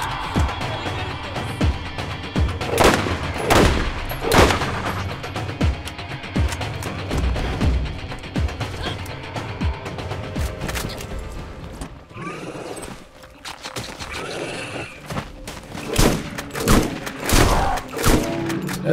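Sniper rifle shots in Borderlands, four heavy cracks spaced across a dense, noisy game soundscape, with mechanical clatter and a brief quieter stretch in the middle.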